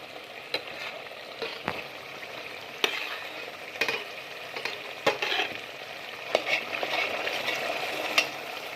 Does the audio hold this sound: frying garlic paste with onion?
yes